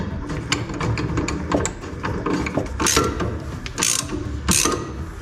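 A socket wrench ratchet clicks in short bursts while tightening a bolt during a tricky installation, close and fairly loud, mixed with clanks of metal and handling noise and no talking.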